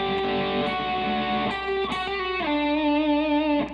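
An electric guitar plays a short riff with sliding notes, hammer-ons and pull-offs over a sustained bass note, close and clear with no talking.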